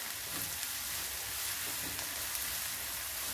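Onions sautéing in a pan for a green peas and potato masala curry, a steady soft sizzle and crackle that holds at an even level for a few seconds, close and alone with no talking.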